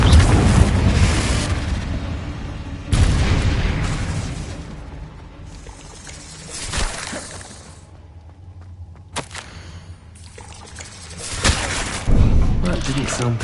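Confringo fire spell blasts in Hogwarts Legacy: several loud booming bursts with whooshing tails, spaced across the stretch with quieter gaps between them, set within dense game sound.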